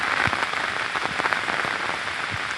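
Evening rain falling in a Konkan village in Ratnagiri, a steady dense patter of drops on surfaces, even and continuous throughout, with no voices.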